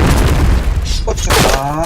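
Grenade explosion in an online shooter game: a dense, booming blast fills the clip, with scattered gunfire-like cracks and brief voices mixed in.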